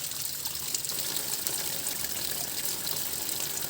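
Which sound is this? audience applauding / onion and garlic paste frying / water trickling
water trickling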